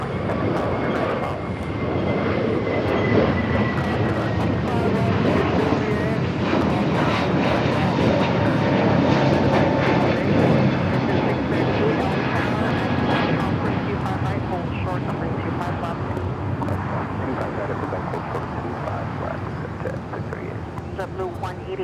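A JetBlue Airbus A321neo, flight 188 bound for Boston, departing Los Angeles, a loud broad jet engine roar that swells and holds steady for the whole stretch, with faint background voices.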